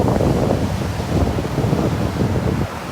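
Surf breaking over a shallow sandbar on a northeast Florida beach, a steady loud wash of waves with wind buffeting the microphone throughout.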